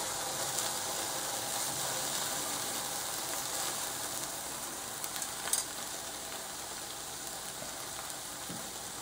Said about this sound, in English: I'm going to place it into this hot pan so that I can sear it.